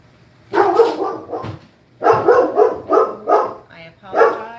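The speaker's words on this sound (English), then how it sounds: "There's a dog going by." A dog, one of two labs passing by, barks in a run of loud, close bursts with short pauses, not talked over.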